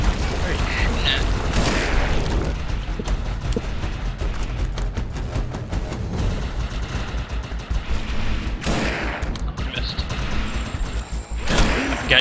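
Sustained rapid gunfire and booming impacts from the video game Defiance fill the whole stretch, loud and dense with bursts of explosions, while players talk over the shooting.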